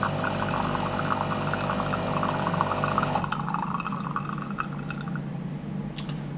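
Espresso dripping from a De'Longhi Magnifica Evo bean-to-cup machine, a steady close liquid trickle over the machine's hum that thins and quiets partway through, with a few small drips near the end.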